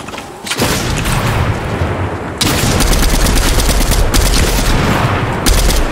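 Rapid bursts of shotgun and automatic gunfire ring out in a Fortnite Battle Royale match, loud, dense and continuous, with a sharp jump in intensity midway and no talking over it.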